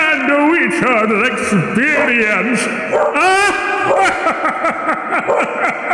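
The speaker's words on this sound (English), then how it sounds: "If you hear my dogs barking, that is just the creatures of the night." Dogs bark and yip in a house during a livestreamed Signalis game session, a busy mix of barks and whimpers under loud talking and game sound.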